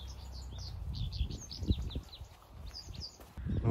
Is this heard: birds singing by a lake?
yes